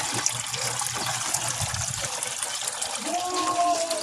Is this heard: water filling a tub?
yes